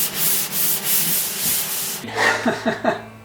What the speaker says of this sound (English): now for everyone's favorite part, sanding